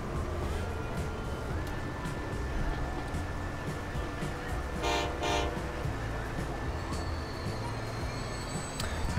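Train rolling into a station in the rail-building game Transport Fever, a steady rumble with a long sustained horn-like tone and a brief bright clattering burst midway, continuous and fairly close.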